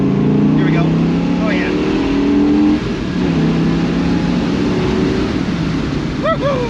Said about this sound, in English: Clutch shakes out nicely in first, second, third, fourth, fifth,